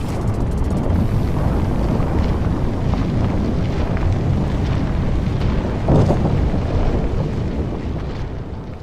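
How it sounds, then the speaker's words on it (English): Demolition blasts bringing down a tall building, a loud continuous roaring rumble of collapse and debris with a brief burst near the middle, fading slightly at the end, no voices. "A few seconds later, the building core itself was separated by 2 blasts on the 5th and 17th floors."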